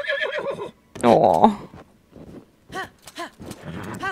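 A horse in The Legend of Zelda neighs and whinnies in a few bursts separated by short gaps, loud and close, with a brief exclamation from a voice in between.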